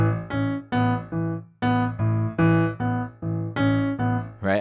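Piano plays a melody, light and staccato: a steady run of short, evenly weighted detached notes, close and clear with no other sounds.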